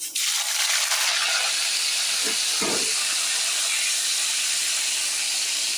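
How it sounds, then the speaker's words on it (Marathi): A loud, steady sizzling hiss of curry leaves tempering in very hot oil fills the whole clip, with a brief sputter partway through. "आणि कढीपत्त्याची फोडणी द्यायची"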